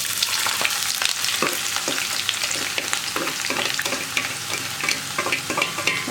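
Chicken chukka frying in a pan, a loud, steady close-up sizzle with rhythmic stirring scrapes of a spoon against the pan, with no voices.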